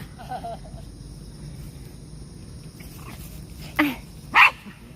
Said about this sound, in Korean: 놀자고 하는데 원래 안 짖는데